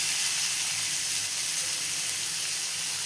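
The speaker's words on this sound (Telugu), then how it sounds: "కొంచెం పోపు వేగిన తర్వాత కొంచెంగా ఇంగు వేసుకోవాలి ఇందులోకి ముక్కల్ని యాడ్ చేసుకోవాలి" Steady hiss of tempering spices, asafoetida and cucumber pieces sizzling in hot oil for dal, a continuous crackling fizz with no talking.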